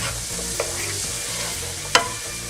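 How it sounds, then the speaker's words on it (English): Vegetables for a chicken pot pie sautéing in a pan, a steady low sizzle with a faint rhythmic hum beneath and a couple of sharp utensil taps, close and without speech. "we're going to saute this for a few minutes because we want to get them nice and soft"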